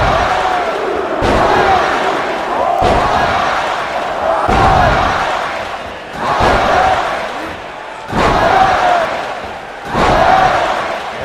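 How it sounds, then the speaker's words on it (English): Repeated elbow drops slamming the ring mat in a WWE 2K wrestling game, about six heavy impacts at a steady rhythm over a loud, continuous arena crowd roar. "All 10 elbow drops to the heart have been hit."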